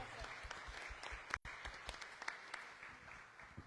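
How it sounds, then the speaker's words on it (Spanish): An audience at a research panel applauds a doctor being introduced, with clapping heard faint and slightly distant, interrupted by a brief dropout, while some voices murmur underneath. "Le damos un fuerte aplauso, por favor, a la doctora Xóchitl Trujillo."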